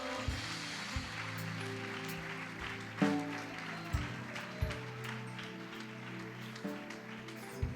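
A church congregation claps in a continuous wash of applause beneath sustained keyboard chords, steady and moderately loud throughout.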